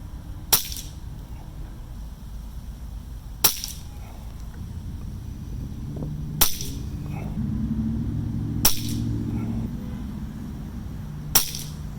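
Air rifle firing pellets, including the Crow Magnum, in a pellet test: five sharp, loud cracks spaced a few seconds apart over a low steady background.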